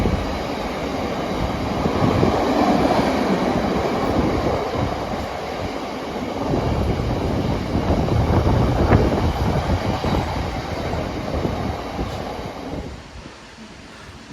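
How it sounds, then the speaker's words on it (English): A freight train passing through East Midlands Parkway station, a loud continuous rumble and rolling rail noise filling the whole clip before easing off near the end. "Right, another freight over there."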